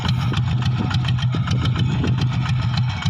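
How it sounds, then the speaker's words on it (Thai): A small single-cylinder walk-behind tractor engine with a modified loud exhaust chugs steadily with a loud, rapid popping exhaust, close and continuous. "รถไถท่อดังโดนแจ้งจับ"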